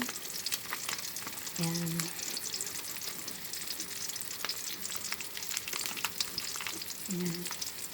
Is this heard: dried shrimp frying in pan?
yes